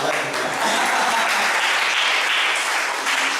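A church congregation at a Sunday evening service claps together in dense, continuous applause that holds steady and loud throughout.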